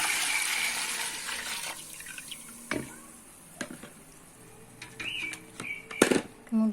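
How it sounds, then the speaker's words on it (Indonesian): Coconut milk is poured into a pot, giving a soft, close liquid splashing and trickling. Faint clinks and handling noises break in here and there. "Tuangkan santan ke dalam tangki."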